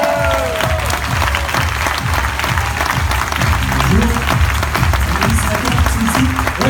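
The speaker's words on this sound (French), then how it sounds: "Maintenant l'applaudissement." Loud, sustained applause from a conference audience, with dense clapping filling the hall throughout.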